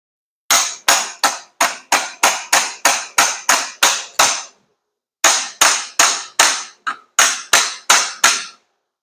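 Sharp metallic hammer blows drive a roll pin punch into a Tremec TKX transmission. There is a fast run of about a dozen evenly spaced strikes, a short pause, then another burst, all loud and close.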